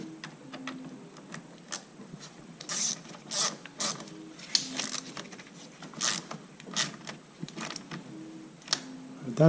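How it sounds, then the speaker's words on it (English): Ratchet tightening a car battery terminal bolt, a quick series of close, irregular clicking bursts with short pauses between them. "Make sure that you tighten this bolt too."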